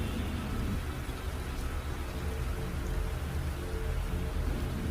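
Steady cartoon rain pours down in a zombie town, a dense, even hiss that holds at the same level from start to finish with no voices over it.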